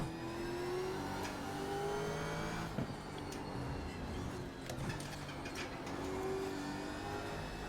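A Gen 3 Supercar racing in the iRacing sim, its engine droning and revving steadily through gear changes with rising and falling pitch, loud and continuous, plus a few sharp knocks, without any voices.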